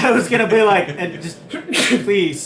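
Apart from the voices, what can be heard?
sneeze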